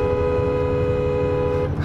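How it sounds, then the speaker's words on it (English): A steady car horn blares continuously at close range for nearly two seconds, loud and unbroken, cutting off abruptly at the end. "you gotta honk your horn 3 times and then take off"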